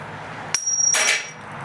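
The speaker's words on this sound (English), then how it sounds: "I like to use a body hammer." A body hammer knocks a door hinge pin on a Jeep Grand Cherokee, a sharp metallic strike followed by ringing and a second struck burst, loud and close with no talk.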